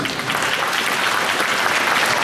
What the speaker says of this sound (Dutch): Applaus voor beide dames.